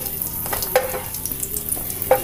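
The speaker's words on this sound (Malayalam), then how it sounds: "ഒരു 10-15 മുന്തിരിങ്ങ കൂടി ചേർത്ത് കൊടുത്തിട്ട് നന്നായിട്ട് അങ്ങ് ഫ്രൈ ചെയ്ത് മാറ്റി വയ്ക്കാം" Raisins fry in ghee in a pan, with a continuous crackling sizzle and a few sharp scrapes of a spoon stirring them, close and without talk.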